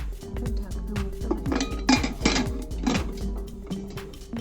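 Metal clanks and clinks ring out close by as a pressure cooker lid is fitted and its whistle taken off for baking chocolate cake, several sharp knocks over a low hum.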